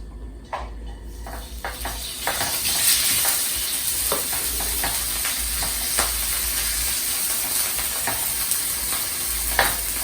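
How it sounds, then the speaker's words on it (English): Cold refrigerated brown rice frying in a hot pan for bibimbap: a dense, continuous sizzle broken by scattered scrapes and taps of a utensil stirring, close up and without speech. "I'm going to go ahead and fry this rice."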